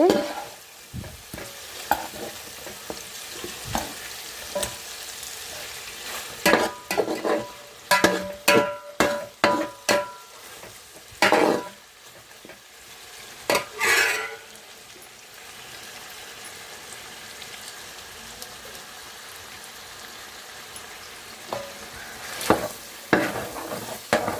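Chicken pieces frying in oil are stirred in a pan, with a steady soft sizzle and bursts of scraping and clanking from the spoon, close and irregular, with no talking.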